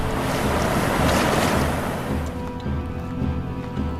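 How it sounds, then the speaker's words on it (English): Rushing, roaring water fills the scene like a raging river, loud and continuous with a broad windy wash that eases slightly toward the end; no voices are heard. "Through raging rivers"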